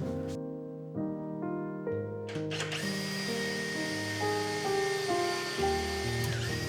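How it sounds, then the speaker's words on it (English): A power drill with a fastener bit whines continuously, its pitch stepping up and down as it bores a hole in cedar for a figure-8 fastener, running steadily without any talking. "All you need to do is drill a hole with a fastener bit"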